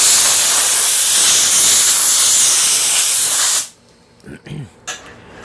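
Compressed air blasts sanding dust off oak boards that were just finished with a random orbital sander and 120-grit paper, a loud steady hiss lasting about three and a half seconds before cutting off, followed by faint handling noises.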